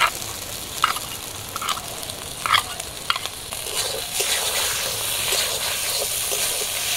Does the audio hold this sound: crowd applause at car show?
no